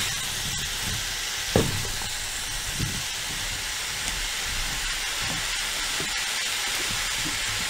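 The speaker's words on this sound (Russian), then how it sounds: "Наслаждайтесь пока звуком шипения кабачков и жареного масла." Sliced zucchini frying in hot oil, giving a steady broadband sizzle and hiss throughout, with a few soft pops and crackles rising briefly above the constant frying noise.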